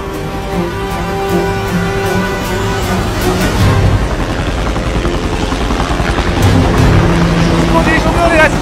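A helicopter in an action-movie scene gives off a loud, sustained rotor and engine drone, with voices and other layered sounds over it.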